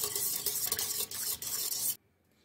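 Milk, oil, sugar and yeast whisked together in a bowl, a quick steady scratchy stirring close by that runs for about two seconds and then stops abruptly.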